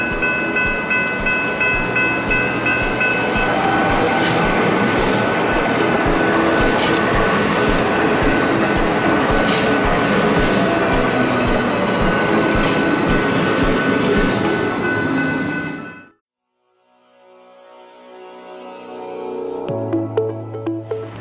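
Light rail (LRT) train ride heard from inside the car near Health Sciences Jubilee Station: a loud, steady rumble and rattle of the moving carriage runs for about fifteen seconds, then drops almost to silence before faint tones and some low noise return.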